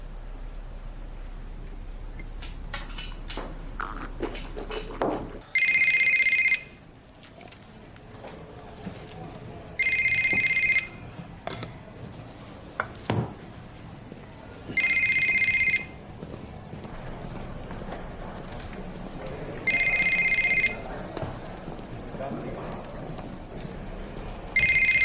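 A telephone rings repeatedly in bursts at regular intervals, each electronic trill lasting about a second, loud and clear over a quiet indoor background.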